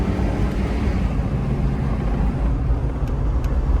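A 2005 Chevy Trailblazer engine pulling under acceleration while driving, a steady dense rumble heard from inside the cabin, loud and continuous with no talking.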